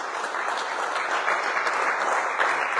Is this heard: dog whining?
no